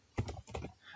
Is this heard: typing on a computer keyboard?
yes